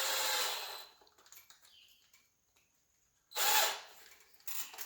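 A power drill runs into a wooden upper kitchen cabinet during installation, with a loud whirring burst, a quiet pause with faint handling, then another strong burst and a shorter one, close and without talk.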